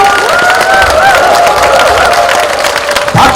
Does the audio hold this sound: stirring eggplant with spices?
no